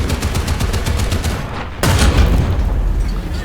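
A .50 caliber machine gun fires in War Thunder during a tank battle with a Chinese M4A4, a dense rapid stream of shots followed by a heavier, louder burst with a booming impact, all fairly close and alone.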